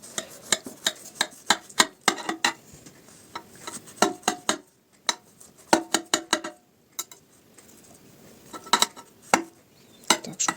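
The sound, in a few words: cutting baked mayonnaise cabbage pie with a sharp knife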